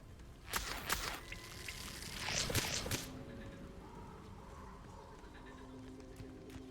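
A waterfall in the video game Hogwarts Legacy gives a steady broadband rush that runs through the whole scene, with bird calls and a brief swell of splashing water near the start.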